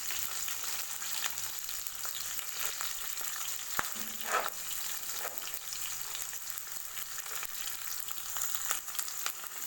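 Steady, quiet sizzling of vegetables lightly frying in a pan for vegetable kichadi, with soft crackles and occasional stirring clinks, no voices.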